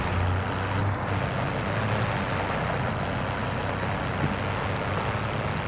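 Truck engine in Call of Duty Warzone, a dense, steady rumbling drone with road noise, loud and continuous for the whole stretch with no voices.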